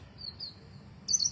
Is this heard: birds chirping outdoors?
yes